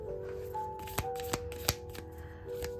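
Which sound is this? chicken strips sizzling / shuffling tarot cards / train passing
shuffling tarot cards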